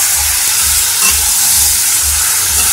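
Meat frying in a wok makes a loud, constant hiss and sizzle close up, with soft low pulses repeating beneath it.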